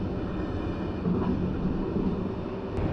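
A EuroNight sleeper train runs through the night near Feldkirch in Austria, a steady low rumble of wheels and carriage noise heard from inside, even and continuous.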